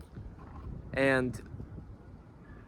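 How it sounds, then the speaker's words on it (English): Outdoor wind buffeting a microphone, a low, uneven rumble that runs throughout, with a single short spoken word over it. "It's windy."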